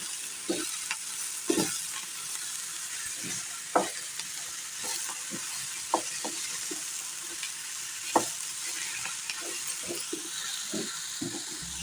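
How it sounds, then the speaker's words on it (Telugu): Bottle gourd pieces stirred into onions and tempering in a hot pan, with a soft continuous sizzle and repeated scraping, clacking spoon strokes at an irregular rhythm, close and moderately quiet. "ఇప్పుడు కట్ చేసి పెట్టుకున్న సొరకాయ ముక్కలు వేసేస్తున్నాను"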